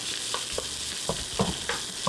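Rice stir-frying in garlic oil in a hot pan on high heat, a steady close sizzle broken by repeated scraping stirs, with no talking.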